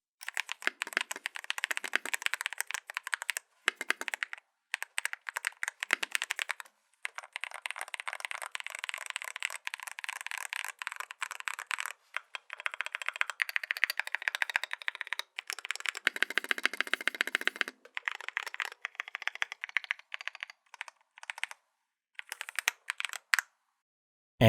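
Lubed Huano Banana switches on an Ajazz keyboard typed in steady bursts of clacky keystrokes, with short pauses between runs and no talking.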